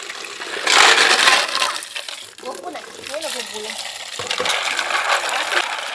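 Fresh clams dived from the sea are washed in water, with splashing, sloshing and clattering shells in bursts close by, and a person talking over the washing.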